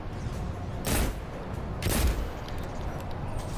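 A hand cannon fires in Destiny 2, giving two sharp, loud shots about a second apart over a low, steady game background.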